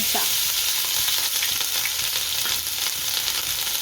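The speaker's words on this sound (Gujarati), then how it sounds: "મરચાં હારા ચડવા દઈશું" Green chillies and asafoetida fry in hot oil, giving a steady, close, loud sizzle with a few stirring scrapes, no voices.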